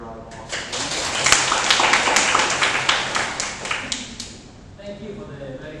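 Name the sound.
audience applause for lecture speaker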